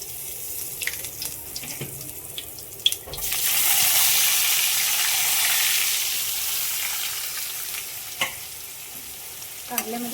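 Tomato paste hits a pan of browned onion and bursts into a loud, hissing sizzle that slowly settles into steady frying, with a few clinks of a spoon or utensil against the pan before and after.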